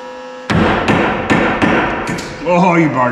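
Several sharp metallic hammer strikes on a bearing ring out at an uneven pace over a low hum, followed by a voice speaking near the end.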